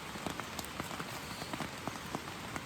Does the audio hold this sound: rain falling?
yes